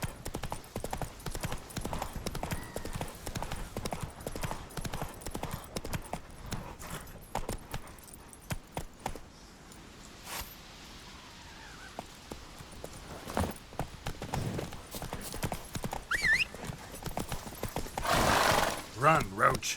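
Horse Roach galloping in The Witcher 3 on Skellige, rapid hoof clip-clop beats with a whinny near the end; a voice speaks over the hooves.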